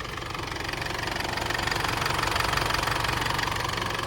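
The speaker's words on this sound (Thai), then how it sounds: "แล้วไปดูที่การทำงานของเครื่องยนต์" A 2013 Isuzu D-Max Hi-Lander 2.5 VGS automatic pickup idles steadily nearby with a constant, slightly knocking diesel rumble and no voices.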